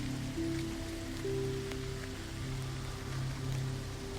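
Steady, even rain patters continuously at low volume, with faint sustained tones humming underneath.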